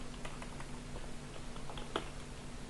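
Light, quick keystrokes tap on a computer keyboard, soft and fairly close, in an irregular patter with a slightly louder key press partway through.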